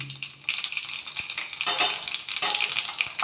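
Sesame seeds, with mustard seeds, cumin and carom seeds, spit and crackle in hot oil for a Gujarati handvo tempering, a close, steady sizzle that swells in brighter bursts and carries on without a break.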